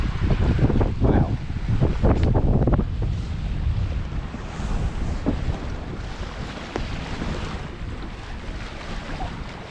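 Wind buffets the microphone and water rushes past the hull of a sailboat on flat water in about 12 knots of wind near Little Cumbrae, between Millport and Troon. Gusts are strongest early, then ease into a steady wash.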